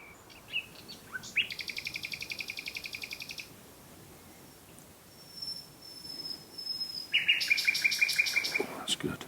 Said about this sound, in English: No extraneous noises apart from the bird that I want, the nightingale.